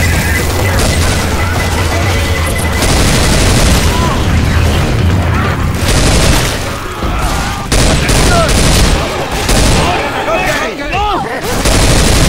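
A pipe bomb detonates amid dense gunfire in Left 4 Dead 2, with loud continuous bursts of shots and booming blasts layered over one another, and a voice talking under the din.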